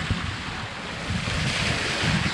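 Steady open-sea surf and gusting wind aboard a Lagoon 42 catamaran mid-ocean, a continuous broadband wash with low rumbling wind buffeting the microphone and swells rising slightly toward the end.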